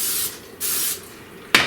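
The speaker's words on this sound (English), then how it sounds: "I'm just going to use my canola spray oil and spray the top and the bottom" Three short hissing bursts of canola oil cooking spray, each lasting a fraction of a second, close and fairly loud, with a sharper final spritz.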